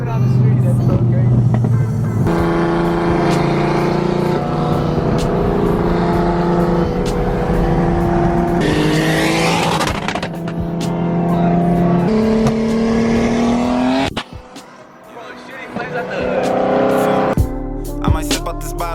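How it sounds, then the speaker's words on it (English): BMW E46 M3 drift car with exhaust exiting through the hood, driven on a street, loud engine repeatedly revving up and shifting through gears, rising pitch steps with a brief drop-off near the end, voices talking over it. "driving his drift car on the street"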